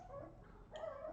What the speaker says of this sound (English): one of my dogs is over there making funny little noises